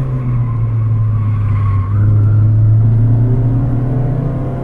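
A car drifts through a corner on the winding Beiyi mountain road in Taiwan, its engine droning loud and steady with a long tire squeal that rises and shifts in pitch, heard from inside the car.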